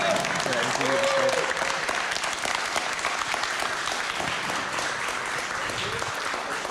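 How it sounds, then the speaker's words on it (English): A tournament audience at a regional championship final applauds a finalist with dense, steady clapping from start to finish, with a voice briefly heard over it. "Another round of applause for your finalist."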